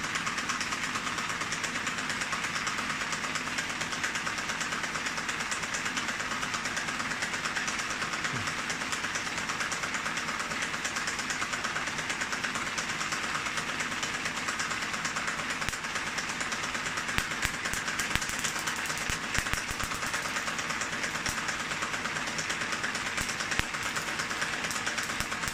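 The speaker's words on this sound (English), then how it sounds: "Turn the motor off and then go." The electric motor of a homemade Van de Graaff generator runs continuously, a steady mechanical hum with a rough rattle. It stays constant at moderate loudness throughout, with a few brief clicks and crackles near the end and no talk.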